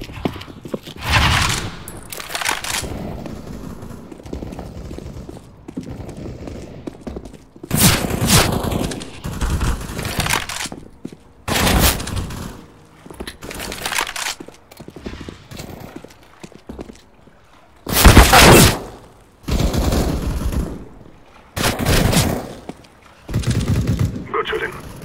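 Gunfire in Counter-Strike: Global Offensive comes as repeated loud bursts of automatic rifle fire in a team deathmatch on the Canals map, with in-game voice announcements between them.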